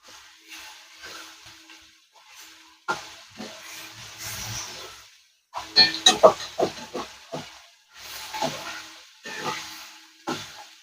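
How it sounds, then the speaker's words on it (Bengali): Chicken pieces frying in a pan, browned on both sides, a crackling sizzle that comes in bursts with quiet gaps and grows louder and denser midway. "চিকেনটা এপিট ওপিট করে একটু লাল লাল করে ভেজে নেবো আমরা।"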